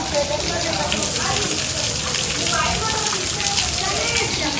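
Water at the Hanuman Dhara temple stream pours down in a steady, loud rushing wash that holds without break, with voices faintly mixed in.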